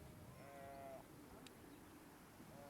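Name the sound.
sheep bleating in a field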